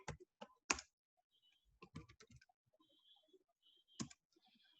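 Keys on a computer keyboard are tapped in short, quiet bursts of clicks with pauses between them, heard close and alone.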